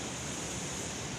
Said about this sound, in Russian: Адыгея и самый красивый водопад.